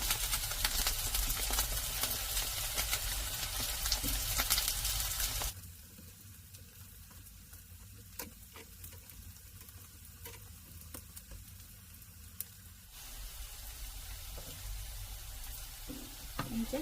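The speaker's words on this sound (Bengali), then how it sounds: "খুব সুন্দর লাল লাল করে ভাজা করব" Food for a Korean recipe browning in a hot pan: a loud, dense sizzle for the first several seconds, then a quieter crackle with scattered stirring clicks before the frying swells again near the end.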